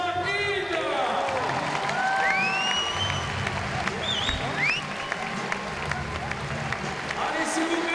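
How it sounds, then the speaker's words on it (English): Crowd applauding and cheering for a Korean climber at the climbing world championships in Paris, steady clapping through the whole stretch with whistles and shouts rising over it. "Applaudissements pour l'incroyable coréenne Kim Jain-il"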